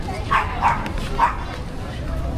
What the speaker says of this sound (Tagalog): Ang daming aso.